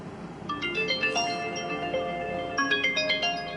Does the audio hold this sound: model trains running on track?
no